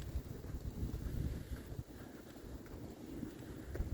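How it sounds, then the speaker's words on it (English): Strong outdoor wind buffets the microphone in continuous low rumbling gusts that swell and dip, loud and close, with no speech over it. "That wind is something else."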